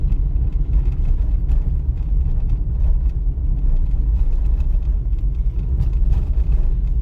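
Car interior on a driving exam route through Sharhorod, a steady low engine and road rumble continuing evenly at close range.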